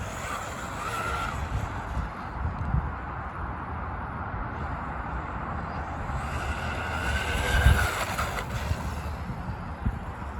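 A WLtoys 124008 RC car with a 3660 motor on a 4S/5S LiPo pack runs at full throttle with jabs of braking, giving a steady, loud whining motor roar with small surges throughout and no talking.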